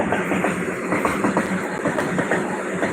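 A train rumbles past at Chaheru railway station in Punjab with a steady roar and faint rhythmic clatter, loud and close throughout.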